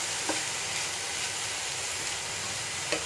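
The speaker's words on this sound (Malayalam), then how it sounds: "നന്നായിട്ടൊന്ന് മിക്സ് ചെയ്യാം" Ivy gourd stir fry with turmeric being mixed in a pan: a steady soft sizzle and hiss of frying vegetables, with a couple of brief scraping clicks from the stirring spoon, no talk.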